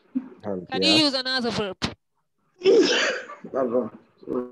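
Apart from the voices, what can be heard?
sneeze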